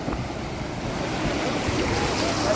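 Steady rushing and sloshing of water with a low engine rumble as a Bolero pushes through bonnet-deep floodwater on the road nearby.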